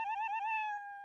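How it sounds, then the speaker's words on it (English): The Scratch cat meow sound effect played on a click, a single clean synthetic meow with a wavering, slightly falling pitch, short and alone. "So now every time I click the cat,"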